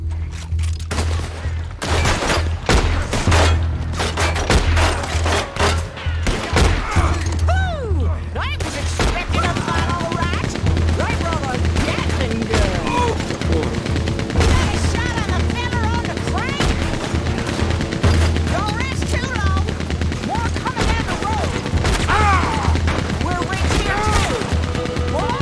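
Rapid gunfire in a western cowboy video game, dense repeated shots and rattling bursts running almost continuously and loud, with someone talking over the shooting.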